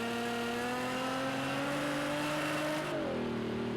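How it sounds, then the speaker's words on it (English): A GT3 race car engine at Monza in the racing game Project CARS 2 roars with a steady high-revving drone, then drops pitch on a gear shift near the end; loud and unbroken. "Just as we're getting to hear the roar of that car"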